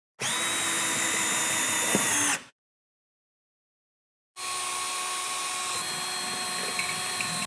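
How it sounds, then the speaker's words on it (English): Power drill boring holes into wooden wall studs while mounting lumber shelves, two sustained loud whirring bursts separated by a short pause. "so you can finish drilling those holes into the studs"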